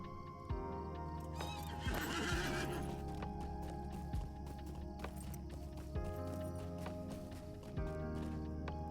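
A horse neighs and whinnies loudly near the start, then hooves clip-clop in a steady rhythm, with faint music-like tones underneath throughout.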